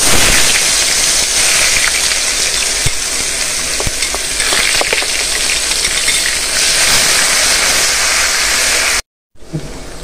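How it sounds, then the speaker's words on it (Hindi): Garam masala whole spices with garlic-ginger paste sizzle and fry steadily in a hot pan for a chicken korma, a loud continuous crackle with stirring scrapes, cutting out briefly near the end. "अब इसमें हम डालेंगे गरम मसाले। पहले जाएगा सारे गरम मसाले जो हमने आपको दिखाए थे, इसको फ्राई करना है।"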